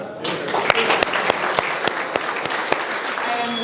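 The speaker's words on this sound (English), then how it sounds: "if you could all give them a round of applause" Audience applause for a group of presenting students at a strategy development evening, a steady wash of many hands clapping with a few sharper individual claps standing out, filling the room without any voice over it.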